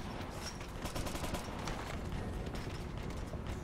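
Gunfire in a Dragon Riser video game crackles in rapid, dense bursts of distant shots and rattling automatic fire, steady and fairly faint with no voices.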